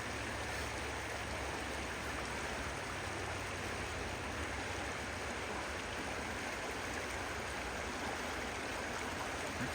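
The Tobacco River flows steadily, a dense, continuous rush of water that stays even and fairly loud throughout, with no voices.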